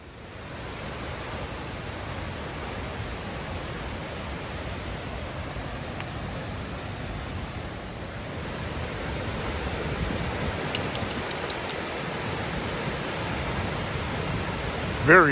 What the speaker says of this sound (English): those are fun waterfalls